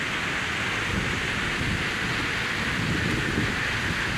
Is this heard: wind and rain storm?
yes